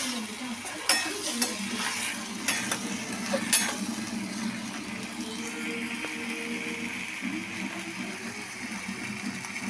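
Tomato chutney ingredients with urad dal and asafoetida sautéing in a pan over raised heat, a steady close sizzle with a few sharp clinks of a spoon against the pan early on.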